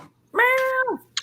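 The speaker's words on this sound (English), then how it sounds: "Meow." A single drawn-out cat meow, close and clear, rising then falling over about half a second, followed by a faint click.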